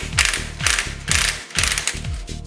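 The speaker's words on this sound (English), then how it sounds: "using the special nut puller, now loosen the clutch nut" Ratchet tool loosening the clutch nut on a Pulsar NS 200cc motorcycle engine, five quick bursts of sharp metallic clicking in an even back-and-forth rhythm, close and clear with no talk.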